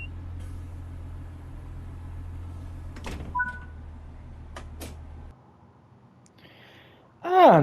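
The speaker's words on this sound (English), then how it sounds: "Right, let's lock the doors," Train doors on an ex-Arriva Trains Wales Pacer bound for Treherbert in Train Sim World 6 slam shut with a couple of sharp knocks and a brief hiss, over a steady low engine idle that later cuts out.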